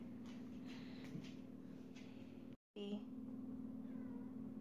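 A cat meows softly a few times near the start, and a person talks quietly over a low background hum.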